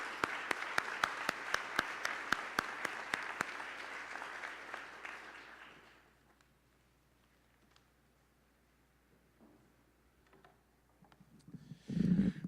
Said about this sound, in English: let's give a round of applause to our 61 honor graduates